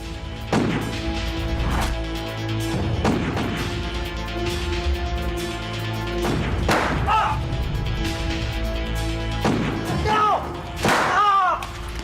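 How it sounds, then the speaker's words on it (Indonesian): Several sharp, booming cracks like gunshots ring out at irregular intervals over a steady background drone, with brief whistling tones between blasts. "Pasti suara tembakan."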